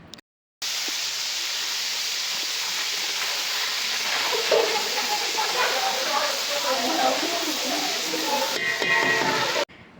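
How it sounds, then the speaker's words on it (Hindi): Garlic ginger paste fries in a pan and is stirred with a spoon, a steady loud sizzle and hiss with scraping stirs, after a silent start, and a voice speaks over it. "इसको आप अच्छी तरह से चम्मच चला के भून लें"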